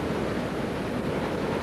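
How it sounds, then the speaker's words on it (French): Ocean waves break against a sandy shore in a steady, loud, broadband wash with no distinct individual crashes, sounding close and continuous without any voices. "Tu vois comment les vagues s'abattent contre le sable des côtes?"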